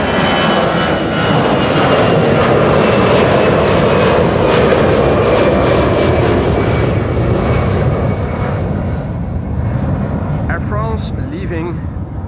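A narrow-body airliner roars past at Amsterdam Schiphol Airport near the Kaagbaan runway, a loud, close, sustained engine rush with a whining tone that slowly fades, and a brief clatter of handling noise near the end.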